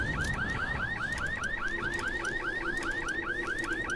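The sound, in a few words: car alarm in the video game Dying Light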